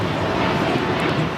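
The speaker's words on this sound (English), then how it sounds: "535 taking off to Richmond on the A220-300" A Breeze Airways Airbus A220-300 rolls for takeoff at LAX, a loud, dense jet-engine roar sustained throughout the brief moment.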